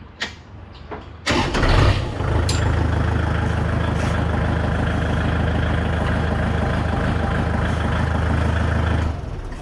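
A tractor with a 24-inch disc plough attached cranks and catches, then settles into a loud, steady diesel idle that stays close and constant until near the end.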